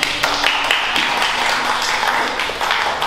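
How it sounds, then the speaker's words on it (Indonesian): Students in a school science classroom applaud a classmate, a dense, steady patter of clapping that fills the full three seconds at a fairly strong level. "tepuk tangan buat Nazri."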